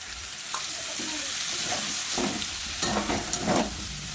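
Soybean chunks and potato frying with a wet paste of tomato, ginger, cumin, chilli powder and turmeric, giving a dense continuous sizzle with a few soft stirring scrapes, close up and with no voices.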